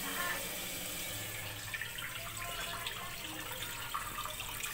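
Water runs steadily into a pot of rice being measured for cooking, a soft continuous splashing pour heard close by without talk.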